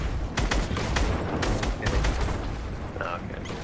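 Rapid bursts of gunfire from a shooter video game rattle in quick clusters over a rumbling background, with a voice talking briefly near the end.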